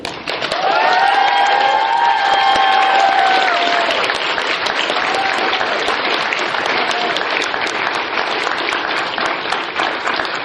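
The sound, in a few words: audience applause at a convention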